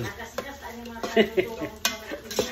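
Garlic being stirred in a pot over heat, with soft scraping and clinking of a utensil against the pot in a few irregular strokes, faint sizzling underneath, close by.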